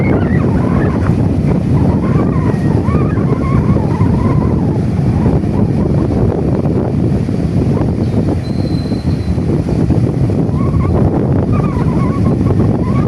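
Loud, constant roar of strong monsoon wind buffeting the microphone with crashing waves beneath, heavy and unbroken throughout.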